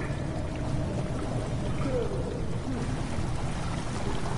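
In the video game Amnesia, water pours steadily into a chamber, a continuous rushing flow with a faint low rumble beneath it and no voices.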